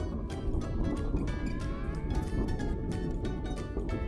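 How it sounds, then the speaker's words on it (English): Splashing, gurgling water effect on a roller coaster in the video game Theme Park Tycoon 2, a steady rushing wash with drips that runs unbroken and fills the whole stretch. "Aggressive water effect."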